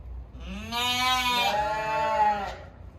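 Sheep and lambs bleat loudly and close by at a livestock market, one long wavering call overlapping another, with a low rumble underneath.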